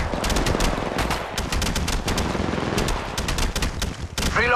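Rapid automatic gunfire from Apex Legends Mobile rattles in dense, overlapping bursts throughout, loud and close, with brief gaps between volleys and a metallic ring at the end.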